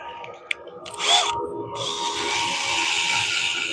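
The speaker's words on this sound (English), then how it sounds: "that right there is something I need to take out with the other sander just for a second" A power sander works on a wood-turned bowl, starting with a sharp click and brief bursts before settling into a steady, close whirring grind.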